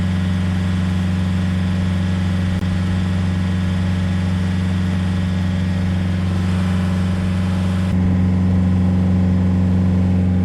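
A loud, close boat engine runs continuously on a trip to the Cai Rang floating market in Can Tho, a steady low drone that swells slightly louder near the end.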